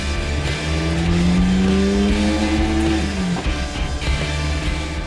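A modified Toyota MR2 engine runs hard on a dyno, a loud sustained drone that climbs steadily in pitch through a long pull, then drops off before settling back to a rough idle, with no talking.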